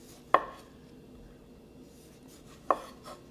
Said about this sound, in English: I just cut the furry peel off